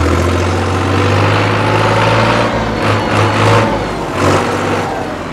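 A 1992 Case IH 495 utility tractor idles with a steady, loud low diesel drone, its rhythmic throb holding even while a few faint mechanical clatters come and go near the end.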